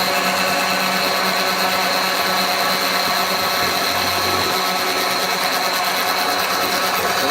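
A small electric motor runs steadily at a constant whine while pins are made, with a loud, continuous hum and no talk.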